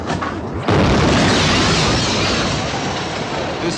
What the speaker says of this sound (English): The explosions hit all parts of the city.